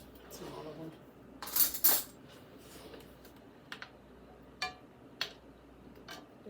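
A small metal spoon handled in a kitchen while roast beef is prepared: a couple of brighter clinks and a few light taps of cutlery against dishware, close and quiet.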